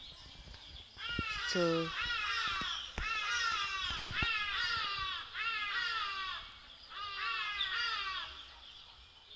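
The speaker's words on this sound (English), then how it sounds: "those are the noises that you can hear from the village. The birds," Crows cawing repeatedly near a village forest, a series of harsh calls in bursts across the whole stretch, fairly close, with a brief voice at the end.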